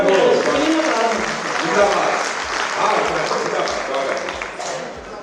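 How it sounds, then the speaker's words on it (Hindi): Strong applause from listeners at a Hindi poetry gathering, a kavi sammelan, with dense continuous clapping and a rhythmic low thumping underneath, crowd voices blending in. "एक बार जोरदार तालियां बजाकर"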